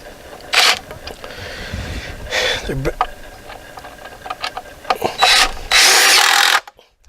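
Stainless steel screws driven into a wooden garden gate damaged by a hurricane: a few bursts of power-driver whirring and ratcheting, loud and close, separated by handling clatter and quieter pauses.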